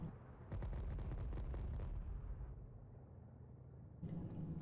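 Rapid cannon fire rattles in a quick burst from an Fw 190 in the IL-2 flight game on Xbox, followed by a deep rumbling explosion and droning engine, then another blast at the end, loud with no talk.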